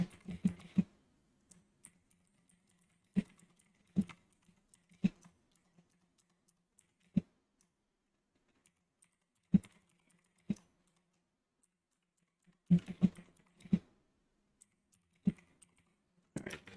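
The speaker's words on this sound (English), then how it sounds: "Let's get this typed out." Intermittent keyboard typing during a live stock-market watchlist session, with bursts of clicky keystrokes spaced by pauses, close-up and fairly quiet.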